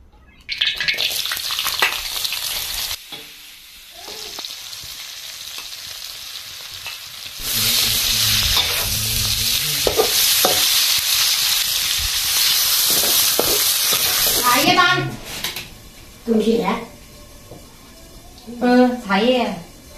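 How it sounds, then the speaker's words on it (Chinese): Cured pork (larou) with dried tofu stir-frying in a hot wok: a loud, steady sizzle broken by stirring scrapes. Voices talk over the cooking toward the end. "拿这个炒腊肉，香干的。"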